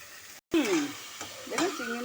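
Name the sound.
prawns being stirred in a pan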